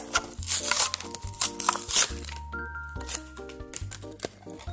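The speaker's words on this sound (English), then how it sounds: "Let us get this out of the packaging now." Plastic blister packaging around a Matchbox diecast 2019 Subaru Forester MBX Offroad crinkles and crackles as it is pried open, with sharp close snaps and rustles over steady background music.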